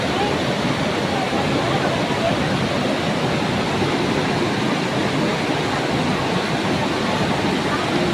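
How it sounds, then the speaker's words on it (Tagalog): The Wawa Dam waterfall gives off a dense, constant rushing roar of falling water, loud and close, with an even wash that never lets up over the whole stretch. "Yung falls yan."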